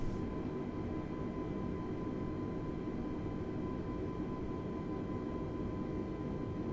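An Airbus A320neo in Microsoft Flight Simulator throttles up its engines while taxiing, a steady low roaring drone with a faint high whine that holds constant throughout, fairly quiet and with no voices.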